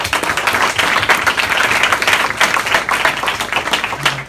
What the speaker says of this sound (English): So a round of applause for the boys.